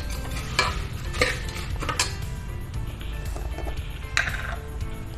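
Sandge dal dumplings and toor dal being sautéed with turmeric in a pan for amti, a spoon stirring and scraping in several distinct strokes over a low sizzle.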